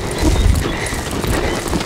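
A horse trotting under a rider, hooves striking in a quick steady rhythm, close and loud with rustling ground noise across the short stretch.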